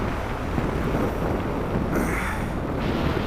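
Wind roars past steadily and loudly during a skydiving jump, a continuous close rushing blast with a brief shift in tone midway and no talking.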